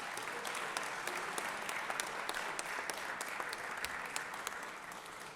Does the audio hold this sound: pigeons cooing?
no